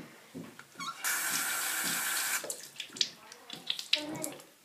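A tap runs briefly with a steady rushing hiss, then stops; splashes and handling noises follow as water is added for a homemade fake arm cast, with a voice speaking before and after.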